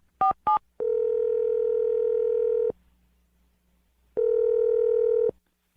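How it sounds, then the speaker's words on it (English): A telephone call being placed: two short keypad beeps, then a long steady dial or ringback tone, a pause of near silence, and a second tone, loud and close with no voices. "I'm going to dial her right now."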